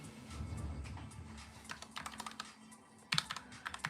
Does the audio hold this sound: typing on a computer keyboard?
yes